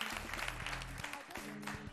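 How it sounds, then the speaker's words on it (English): An audience at a couples game show claps in applause for a contestant pair, a faint, steady wash of clapping under background music with a low hum. "Let's put our hands together for them."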